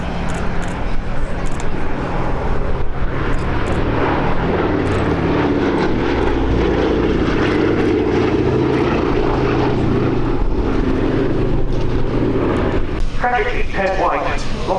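B-17 bomber at the Abingdon Air and Country Show, its piston engines droning steadily and loudly throughout, with a voice talking over the engine noise.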